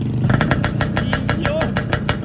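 A Kawasaki Brutus 140 motorcycle engine revs in quick repeated bursts, loud and close, with a steady rumbling idle underneath.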